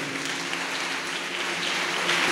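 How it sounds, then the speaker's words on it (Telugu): An audience claps at an outdoor church festival for a Marian shrine house-blessing, a steady dense wash of applause throughout, fairly loud and with no talk over it. "మీకోసం మీరు గట్టిగా చప్పట్లు కొట్టుకోండి"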